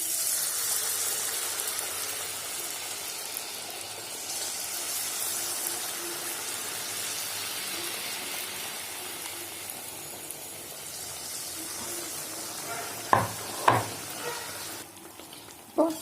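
Pazham pori, banana fritters, frying in hot oil in a Kerala kitchen: a steady, dense sizzle and bubbling throughout, with a few sharp knocks of a utensil near the end.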